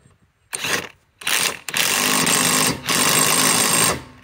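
A DeWalt DCF891 impact wrench on a FlexVolt battery tightening, short bursts of loud rapid hammering followed by longer sustained rattling runs, close to the mic.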